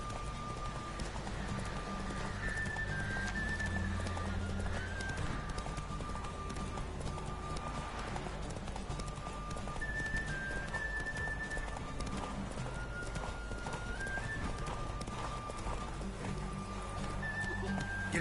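Horse hooves clip-clop at a steady galloping rhythm in The Witcher 3, loud and continuous, with in-game ambience and a faint whinny beneath.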